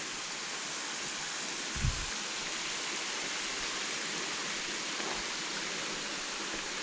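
Stream water flows past near the old George dam, a steady close rush of broadband noise with one brief low thump partway through.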